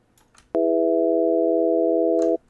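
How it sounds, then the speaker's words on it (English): A steady synthesizer tone built from a few drawn-in harmonics that stack into a major chord, starting abruptly and holding evenly for about two seconds before cutting off, with no voices. "you can hear that they make up a chord. In this case, a major sounding chord."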